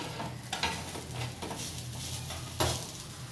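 Brinjal slices fry in oil over a low flame, a constant crackling sizzle with soft stirring and a few light clinks of a spatula against the pan.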